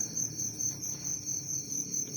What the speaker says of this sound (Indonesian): Jangkriknya nanti kita masukin ke sini, ya.